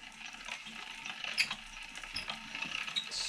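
A hand-cranked mechanism is turned indoors, giving a soft, steady ratcheting clatter of gears over a few seconds, close but quiet.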